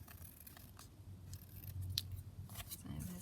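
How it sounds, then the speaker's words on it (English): Scissors trimming overhanging paper pieces on a junk journal page, producing a few soft, quiet snips and crisp cuts close by, spaced irregularly over a faint room background. "So just going to trim around the pieces that are kind of overhanging"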